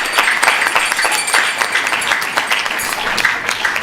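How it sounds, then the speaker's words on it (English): Steady applause from an audience at an evening temple festival gathering, a dense wash of many hands clapping continuously at a moderate distance with no voices over it. "So please give him a big round of applause as well."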